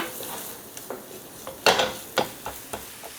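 Minced garlic and green onion fry in a pan, a faint sizzle broken by several sharp clinks and scrapes as a spoon or spatula stirs against the metal.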